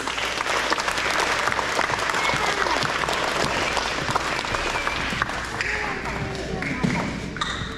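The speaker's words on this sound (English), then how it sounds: "Let's give them a round of applause." Audience at an elementary school awards ceremony for grades 3 to 5 clapping steadily for students, a dense, sustained round of applause indoors with faint voices mixed in.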